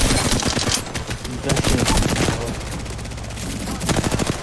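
Rapid automatic gunfire in the video game Apex Legends rattles almost continuously in loud, dense bursts of shots, with a voice talking faintly underneath.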